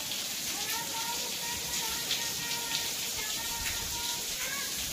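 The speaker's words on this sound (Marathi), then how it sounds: "सगळ्याच्या गावाला पाऊस चाललाय, आपल्याच नाही" Steady rain patters in a continuous wash of drops, with people talking faintly beneath it.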